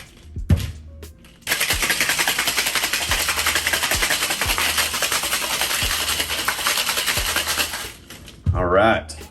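A cocktail shaker packed with ice is shaken hard, a dense rapid rattle of ice lasting several seconds, loud and close, preceded by a few knocks and followed by brief talk.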